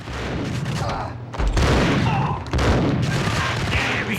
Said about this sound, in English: Oh, she's shooting at me too.